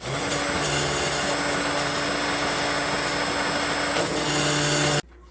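A blender runs loud and steady, whirring through green taco sauce in a kitchen, a continuous motor drone that cuts off abruptly near the end.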